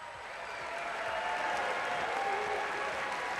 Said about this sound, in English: I think you should give yourselves a round of applause for coming out here tonight